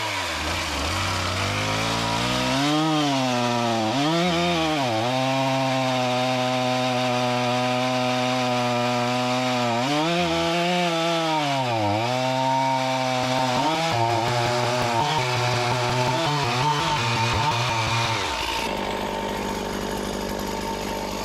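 A Stihl chainsaw bucks straight down through a big tree with the full bar, its engine loud and steady, the pitch sagging and recovering as the chain bites, then idling down near the end.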